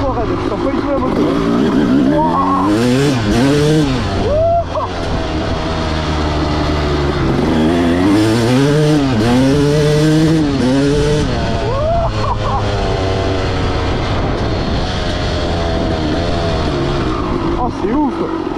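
A rebuilt Honda 250 CR two-stroke motocross bike being ridden, its loud engine revving up and dropping back repeatedly through rising and falling sweeps, close and continuous, with a rider talking at times over it.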